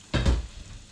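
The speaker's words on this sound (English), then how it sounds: "We're just going to add the shellfish back into the sauce, give it a stir through" Cockles and whelks are stirred back into a sauce in a pan, making a short, soft wet sizzle and scrape up close, with one quick stroke followed by a quiet simmer.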